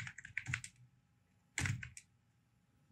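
Keystrokes on a computer keyboard while entering text into a web form input field, a quick cluster of clicks, a pause, then another short burst, close and fairly clear with no talking.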